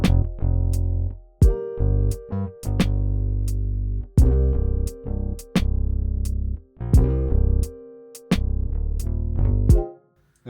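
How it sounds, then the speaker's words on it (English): A very simple programmed drum pattern for an R&B beat, with sharp percussive hits over booming low tones, repeating at a steady rhythm, loud and close with no voices. "I made the most simple drum pattern like imaginable"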